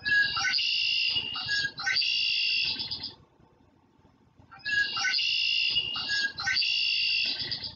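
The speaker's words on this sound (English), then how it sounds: "That is the red-winged blackbird. Super loud bird, super obnoxious." A loud red-winged blackbird repeats a harsh, buzzy trilling call twice, separated by a brief pause, with quieter chirps in the background.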